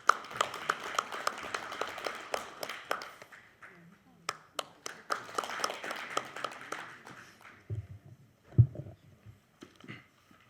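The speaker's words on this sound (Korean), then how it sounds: "큰 박수로 모시겠습니다." Applause welcoming the Seoul regional veterans affairs commissioner to give a congratulatory address at a ceremony marking the 104th anniversary of the Korean Declaration of Independence; scattered clapping from a modest audience, thinning out partway through, with a few louder knocks near the end.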